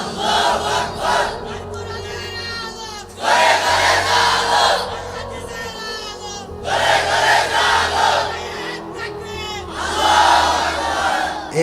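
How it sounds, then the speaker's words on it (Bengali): Loud crowd of many voices shouting in unison in repeated bursts, a takbir chant at a religious sermon gathering with no single speaker standing out. "ভাইজান তাকবীর দেন একটা, তাকবীর দেন একটা।"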